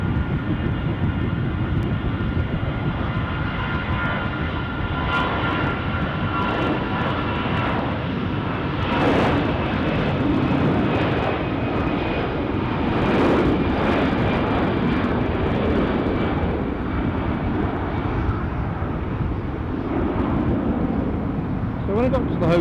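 Aer Lingus airliner rolling for takeoff bound for Dublin at Düsseldorf airport, a loud sustained engine roar that swells and holds throughout, with someone talking over it.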